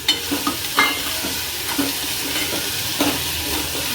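Mixed vegetables sizzling in hot oil during tempering, a steady frying hiss broken by occasional scraping stirs of a spoon in the pan, close up.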